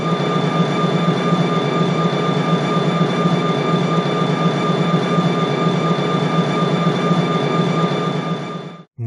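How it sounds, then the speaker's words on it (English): A model diesel locomotive's prime mover from a high-end DCC sound decoder: a steady, loud, droning engine hum with a constant tonal whine, running alone and cutting off abruptly at the end. "First, the sounds of a typical high-end DCC decoder."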